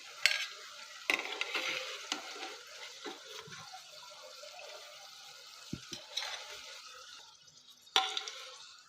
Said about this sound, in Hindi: अब इसी तरह हम तमाम कटलेट्स को फ्राई कर लेंगे